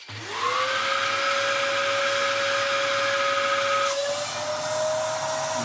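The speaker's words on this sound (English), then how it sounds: "That's even got the nice howl that a decent Dyson DC07 does." A Dyson DC07 upright vacuum cleaner runs steadily with a rising, sustained howling whine that continues loud and close throughout, with a slight shift in tone near the end.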